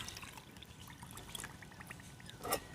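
Water is poured into a mixer jar holding semolina, a quiet steady trickle and splash that builds to a brief louder gush near the end.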